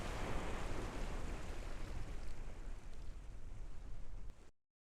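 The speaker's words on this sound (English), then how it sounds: "And a successful splashdown." Spacecraft splashing down in the ocean in Kerbal Space Program: a steady, loud broadband roar of rushing water and surf that holds for about four and a half seconds and then cuts off abruptly into silence.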